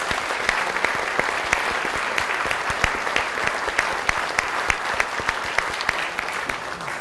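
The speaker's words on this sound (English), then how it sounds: "So a round of applause for" A lecture audience at a veterinary medicine address gives sustained applause, with dense, even clapping and sharp individual claps standing out over several seconds.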